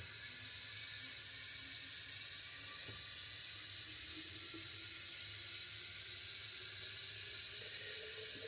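Hot water runs steadily into a coffee pot, a continuous hiss of flowing liquid that is fairly faint and holds even throughout, with no talking.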